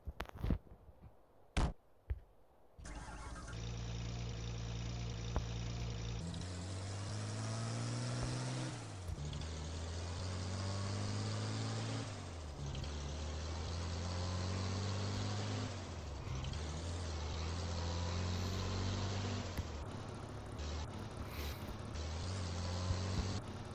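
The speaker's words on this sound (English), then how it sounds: "this car here sounds like a tractor" A car engine in an online Russian city driving game drones and revs steadily, with gear changes and a rough, tractor-like tone, close and continuous after a brief start with no talk.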